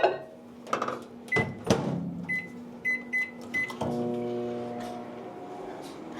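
A microwave oven in a home kitchen: buttons beep in short electronic chirps amid door clicks and thuds, then the oven starts with a steady, humming drone that continues to the end.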